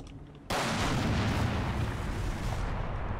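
Mortar fire in a World War II tactical video game pounding a stretch of hedge, a sudden loud onset of dense rumbling blasts and debris roar that keeps going without letup, with no talking.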